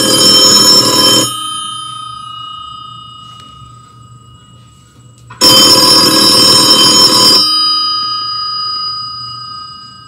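An old-style telephone bell rings loudly in two bursts, a short ring and then a longer one after a pause of several seconds.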